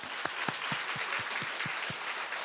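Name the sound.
congregation applauding in church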